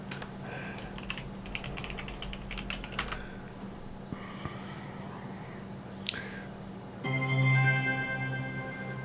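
Rapid clicking keystrokes on a computer keyboard as a command is typed into a Linux command line, up close and fairly loud, with short pauses and a few single taps, ending under a low electronic hum.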